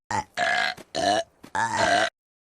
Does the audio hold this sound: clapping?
no